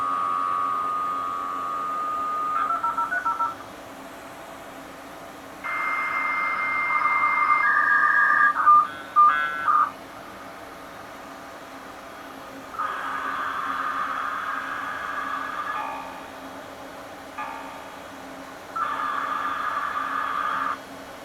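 An internal 56K dial-up modem connects to an ISP, sending a long run of loud tones, warbles and hissing bursts that start and stop in blocks over about twenty seconds, with no one talking.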